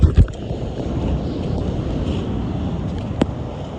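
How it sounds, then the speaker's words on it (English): Ocean waves wash up on a beach as a steady low rumble of surf, heavily mixed with wind buffeting the microphone, with a couple of brief knocks close by. "Waves are starting to get up here"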